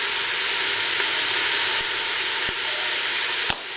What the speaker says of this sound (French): On va bien les faire rissoler et bien les faire réduire.